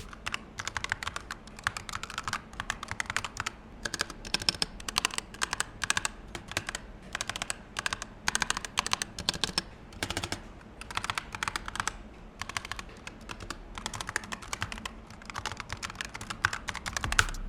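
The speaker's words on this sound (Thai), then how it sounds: "เดี๋ยวเรามาลองฟังเสียงจากคีย์บอร์ดกันนะครับว่าเป็นยังไง" Rapid clicky keystrokes on a Razer Huntsman V3 Pro Mini mechanical keyboard, an uneven stream of sharp taps continuing steadily, close and moderately quiet, with no talking.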